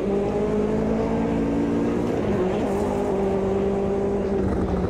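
A race car engine and exhaust roar in the racing game Automobilista 2 on a Daytona track mod, a loud, sustained droning note that holds steady and shifts slightly in pitch mid-run, with no talking.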